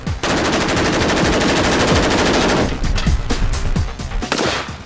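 A polymer-bodied assault rifle fires a loud sustained automatic burst, then a series of shorter sharp shots ring out with echoing tails.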